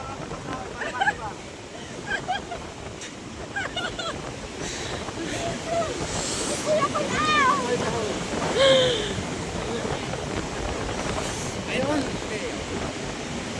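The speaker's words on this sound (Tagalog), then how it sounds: "Yung malalaking alon, no? Ay, malalaking alon." Large waves churn and surge after Super Typhoon Uwan, a steady loud roar of surf mixed with wind buffeting the microphone, with people talking over it.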